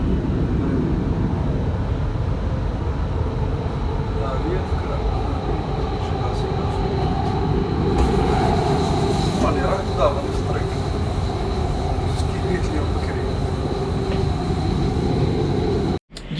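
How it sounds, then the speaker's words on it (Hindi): A Qatar metro train runs along its line, a continuous loud rumble and rolling rattle from inside the carriage that persists throughout, with a few voices faintly audible, before cutting off abruptly near the end. "जी हाँ, ये कतर की जो ट्रेन है मेट्रो"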